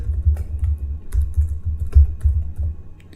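Rapid keystrokes on a computer keyboard while code is typed, a steady run of close, soft clicks and thumps with brief pauses between bursts.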